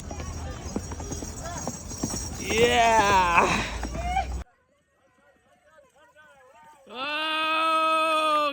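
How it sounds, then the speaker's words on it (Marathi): Rapid hoofbeats of a horse clatter under excited voices and a loud animal cry in Mahabaleshwar, then a near-silent pause before another sustained tonal sound. "घोडा आहे."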